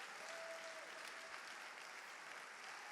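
A church congregation applauds steadily, a dense wash of clapping at moderate distance that fills the whole stretch without a break.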